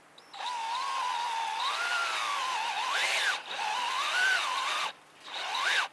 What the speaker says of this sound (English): So I'm going to take my drill, and I want to drill at an angle.